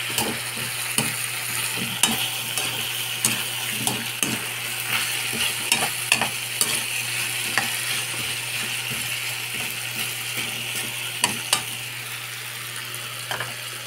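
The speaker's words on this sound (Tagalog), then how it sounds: "Yan muna natin na maprito-prito ng konti yung gabi." Taro sizzles and fries steadily in a pan, with frequent sharp clicks and scrapes of stirring scattered throughout, no talking.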